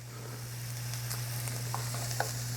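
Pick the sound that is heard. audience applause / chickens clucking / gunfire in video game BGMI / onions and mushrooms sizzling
onions and mushrooms sizzling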